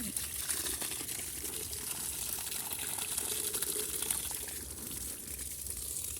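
Steady water running and splashing continuously at close range, a constant broadband rush with no pauses.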